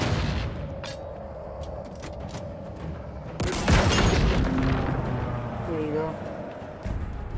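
Gunshots and heavy booms from the video game Halo Infinite crack out irregularly over an ongoing game soundscape, with one loud blast midway. A person talks throughout over the firing.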